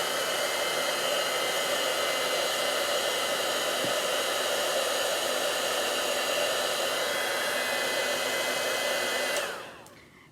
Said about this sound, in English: the heat tool, once it gets heated up, it stays warm